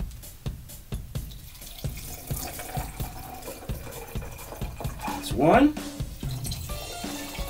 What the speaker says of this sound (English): And pour it evenly.